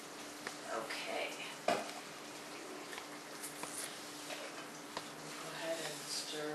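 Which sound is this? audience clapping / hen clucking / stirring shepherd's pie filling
stirring shepherd's pie filling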